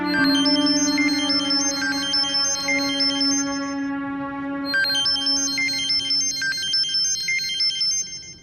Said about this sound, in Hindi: फोन क्यों नहीं उठा रही हो?